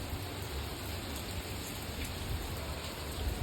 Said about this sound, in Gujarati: વરસાદ આવે છે ફૂલ